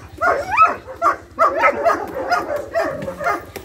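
A Malinois dog in attack training barks and growls in short, sharp bursts, close and loud, with whimper-like tones between the outbursts and a low steady hum underneath.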